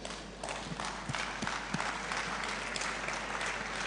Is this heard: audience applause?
yes